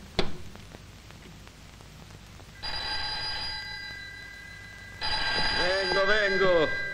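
An old telephone bell rings in two bursts in a quiet room, each a bright, sustained metallic ring, with a voice briefly heard as the second ring continues.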